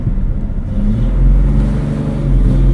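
A 1955 Mercedes 300SL Gullwing pulls away on a hill, its engine close and loud with a deep, throaty drone that swells as it builds revs over a couple of seconds, no voices present.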